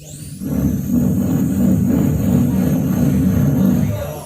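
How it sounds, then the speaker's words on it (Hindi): A steady, blustery rush of wind swells in and holds at a constant roar, with no talking over it. "विंड, एग्जैक्टली, हवा का आवाज है वो,"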